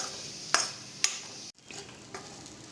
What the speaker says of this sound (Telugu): ఇదిగోండి కొబ్బరి వేగింది